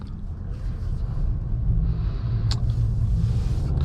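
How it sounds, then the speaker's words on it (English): Engine rumble from a 2023 Ford Maverick Tremor with a 2-liter turbocharged 4-cylinder, heard as a steady low droning cabin rumble while driving, with a brief sharper click partway through. "this 2-liter turbocharged 4-cylinder under the hood. I will say it sounds very raspy and a little bit clunky"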